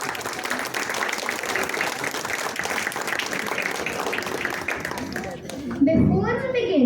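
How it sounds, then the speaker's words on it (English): An audience applauds steadily after a school readers theatre performance, with dense, even clapping that fades near the end as a voice begins speaking. "Let's show our appreciation with a big round of applause for this wonderful performance."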